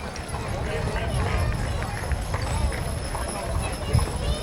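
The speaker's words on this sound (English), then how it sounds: "horse-drawn wagon from Berman's Registered Purchasers" Horses pulling a horse-drawn wagon clip-clop along the street in a small-town Iowa heritage days parade, hoofbeats mixed into steady crowd and outdoor noise while someone talks over them.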